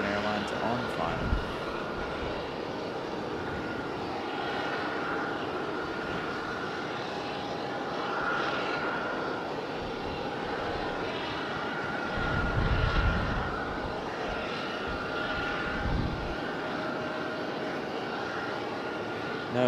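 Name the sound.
American Airlines airplane on final approach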